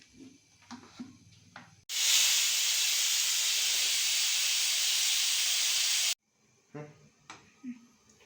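A pressure cooker on the stove, cooking vegetable sambar, lets out a loud, steady steam whistle that hisses for about four seconds and then cuts off abruptly, with quieter kitchen clatter before and after.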